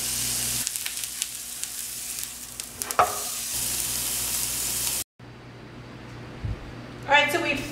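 Beef ribs sear in a hot pan, giving a loud, steady sizzle that briefly cuts out and then resumes, with clatter from handling. A person speaks over the frying.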